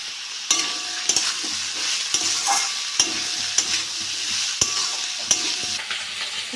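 Sliced papaya fries in a pan with turmeric and salt, a steady sizzle broken by sharp, regular scrapes and clicks of the stirring utensil, close up with no talk.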